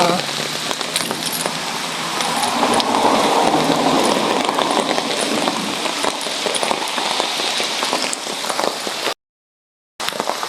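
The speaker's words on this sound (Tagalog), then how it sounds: "With matching ulan pa." Steady rain pours down outdoors on a workday morning, a dense, continuous hiss that holds loud and even for about nine seconds, cuts out briefly, then resumes; faint voices may sit beneath the downpour.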